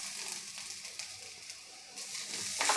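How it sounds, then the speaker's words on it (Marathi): Freshly grated coconut sizzles in a pan over a low flame, a steady soft frying hiss with faint stirring scrapes that grows slightly brighter near the end, with no voices. "आता छान असं आपल्याला मंद गॅसवर परतून घ्यायचं आहे।"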